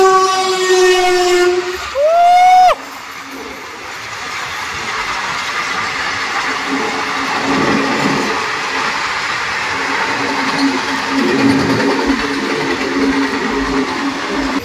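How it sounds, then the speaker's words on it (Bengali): A train horn blares loudly for a couple of seconds, then a passenger train with ICF coaches rumbles and clatters steadily as it rolls into Kishanganj railway station in Bihar. "অলমোস্ট 7 ঘন্টা 3 মিনিট লেট করে আমাদের ট্রেন এসে পৌঁছালো এই কিষানগঞ্জ রেলওয়ে স্টেশনে"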